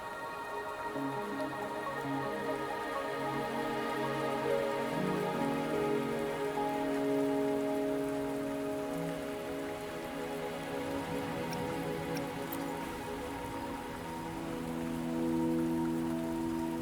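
Steady rain falling in the video game Wuthering Waves, a soft continuous patter layered under sustained game music tones, no speech.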